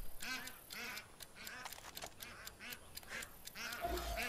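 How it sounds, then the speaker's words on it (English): Ducks quack repeatedly in the video game Far Cry 5, a steady series of nasal calls over an outdoor ambience, moderately close, with a soft thump near the end. "Oh, hey. A duck."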